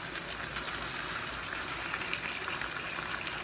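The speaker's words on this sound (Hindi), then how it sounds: "मैं आधा साग डालूँगी इसमें" Fresh mustard greens for sarson ka saag drop into a hot pot, giving a soft, continuous hissing sizzle and bubbling at low volume, with no talk.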